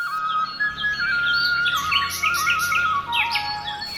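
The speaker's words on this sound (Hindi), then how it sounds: "देशी विदेशी पक्षियों की चहचहाहट हो, उनका कलरव हो" Native and migratory birds chirp at the Nagi Nakti dam bird sanctuary in Jamui, Bihar, with a steady high whistling call joined by overlapping bursts of twittering from several birds, loud and close, with no voices.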